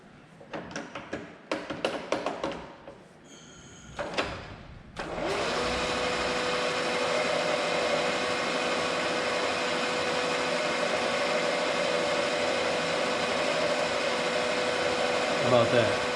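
A powered Frick saw cuts through a rod with a steady, continuous motor whine and grind that starts abruptly after a few seconds of clanks and handling noises, then runs evenly to the end.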